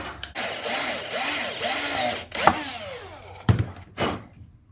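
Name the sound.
drilling holes with a countersink drill bit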